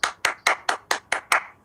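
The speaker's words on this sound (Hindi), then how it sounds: "एक जोरदार ताली।" Seven sharp, evenly spaced claps at a business presentation welcoming a guest on stage, crisp and close with clean silence between each beat, no talking.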